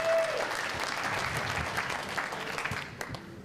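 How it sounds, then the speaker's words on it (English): An audience at a Free Your Mind Conference performance gives a sustained round of applause, a dense wash of many clapping hands that stays steady and loud throughout before thinning slightly near the end. "Give a round of applause."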